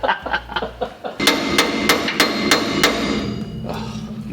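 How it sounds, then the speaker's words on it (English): A hammer repeatedly strikes a steel flange to knock it off a 2.8 axle centre, with about eight sharp, loud, evenly spaced metallic blows close by, preceded by a few lighter taps. "I'm only hammering the flange."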